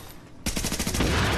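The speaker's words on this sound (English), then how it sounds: "I have the explosive bullets. Let's give these a go." Rapid automatic fire of explosive rounds in The Division, a loud burst of close, rhythmic shots starting abruptly after a quiet moment and continuing steadily with heavy thumping impacts.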